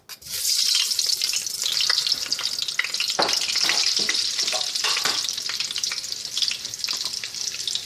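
Oil and Haitian yellow butter hit a hot cooking pot, setting off a loud, dense, crackling sizzle that carries on steadily with occasional sharper pops.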